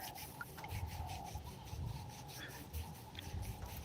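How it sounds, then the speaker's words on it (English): Steady, soft rubbing as Stockholm tar is smeared by hand over a horse's hoof, a continuous close scuffing texture with slight rhythmic swells and no speech. "So, let's just wet that slightly. I'm going to rub that all over."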